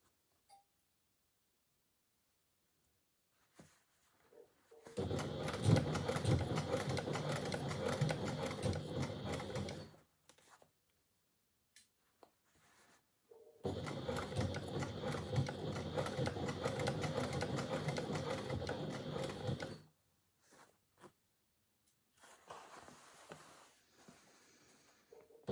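Domestic sewing machine stitching a seam through several thick layers of jacket fabric, in two steady runs of about five seconds each with quiet pauses between, followed by a fainter, shorter burst.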